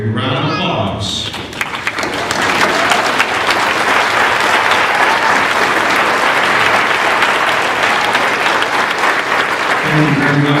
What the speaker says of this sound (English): would all PCC faculty and staff please rise for a big round of applause